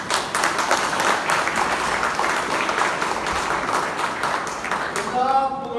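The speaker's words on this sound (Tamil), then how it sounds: "பெரிய கைத்தட்டு கொடுத்துருங்க ஐயா அவர்கள்." A hall audience at a Kamban literary gathering claps steadily during a closing speech, a dense continuous round of applause that carries on for several seconds before fading at the end, where a voice briefly starts.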